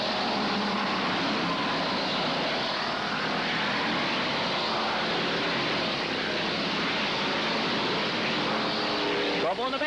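Race cars roar continuously around an oval during a 1988 enduro at Holland Speedway, a dense loud engine drone with a track announcer talking over it.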